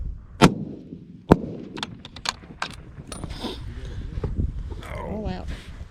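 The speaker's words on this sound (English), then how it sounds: "Last shot." Two sharp rifle reports from an F-Class match at Camp Atterbury, the loud first crack followed by a second just under a second later, then handling clatter, rustling and a little background talk.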